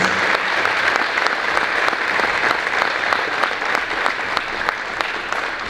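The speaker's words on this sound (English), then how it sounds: "let's give a big round of applause to all of our heroes" Steady, dense applause from a large crowd at a high school wrestling meet, honoring military veterans, sustained throughout with a few sharper claps standing out.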